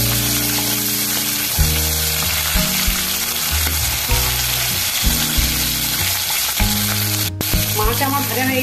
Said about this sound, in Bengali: একটু হালকা করেই এটাকে আমি ভেজে নেব।